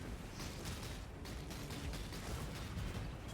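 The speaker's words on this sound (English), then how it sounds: "Just being able to run up and just one-shot entire packs and see the explosions" Explosions from the action RPG Path of Exile as a character one-shots enemy packs: dense, continuous bursts and crackling blasts layered loudly over a steady rumble with no pauses.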